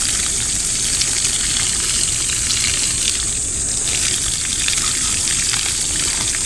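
Running water gushing steadily in an outdoor garden setting, a loud, continuous broadband rush with no breaks across the whole stretch.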